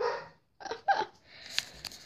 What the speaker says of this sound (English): Oh my goodness, that dog.